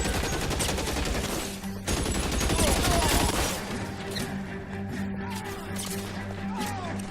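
Dense bursts of automatic machine-gun fire in the LA Noire video game, loud and sustained for several seconds before thinning into scattered shots under faint background voices.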